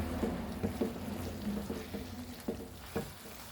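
Fried prawns are stirred and coated in sweet spicy sauce in a pan: a low steady sizzle with soft, repeated scraping strokes of a spatula, close and alone.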